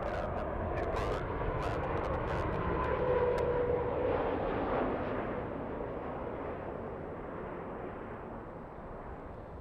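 A Delta 615 airliner departing runway 24 left at LAX, a broad distant jet roar rising and holding steady, with faint crackling bursts early on and no speech.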